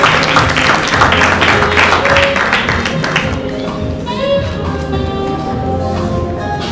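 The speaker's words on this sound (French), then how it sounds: "sur les applaudissements s'il vous plaît" An audience claps at a certificate ceremony at a Rotana Hotel in the DRC, a dense burst of applause that thins out as tonal music rises beneath it.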